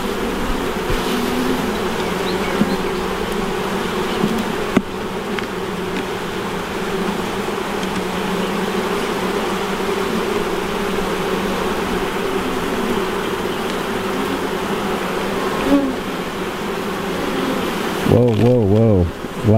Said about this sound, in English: Lots of bees spilled out on that one